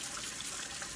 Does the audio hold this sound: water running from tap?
yes